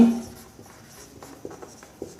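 A marker or chalk scratches numbers onto a classroom board in short, quiet strokes, a few soft taps and squeaks spaced irregularly through a hushed room.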